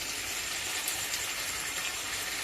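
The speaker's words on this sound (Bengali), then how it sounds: "এখন কষা হচ্ছে" Chicken sautéing (kosha) in a home kitchen pan, a constant loud sizzling hiss that runs evenly through the whole moment, close up, with no voices.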